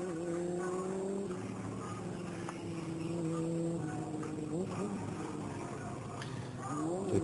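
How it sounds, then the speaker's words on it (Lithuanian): A stunt motorcycle does a tire-burning burnout at a stunt riding competition in Kačerginė, the engine revving and wavering in pitch over a continuous rubber screech, loud and close, with a faint voice in the background. "Padangos deginimas su įvairiomis variacijomis"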